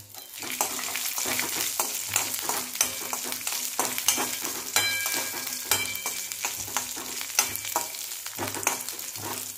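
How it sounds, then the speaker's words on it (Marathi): Coconut, garlic and whole spices being roasted in a pan, with a steady soft sizzle and regular scraping strokes of a spatula stirring them, close and alone. "लसूण, खोबरं आणि थोडे खडे मसाले आता हे व्यवस्थित असं भाजून घ्यायचे।"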